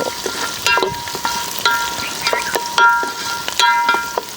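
Green chillies frying in hot oil with curry leaves in a farmhouse kitchen, giving a steady close sizzle with crackling pops and bursts throughout and no talking.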